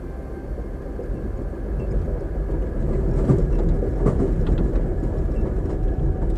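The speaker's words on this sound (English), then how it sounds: "A passenger train somewhere between New York and Chicago." Passenger train on the New York to Chicago line, a steady low rumble of wheels on rails with faint clickety-clack and rattling from inside the car, no talking.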